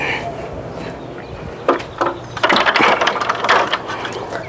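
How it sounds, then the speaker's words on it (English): A power drill whirs and ratchets in short bursts, close by, the clicking grinding growing busier as screws are driven into a cedar beam. "So now I'm going to drill these in"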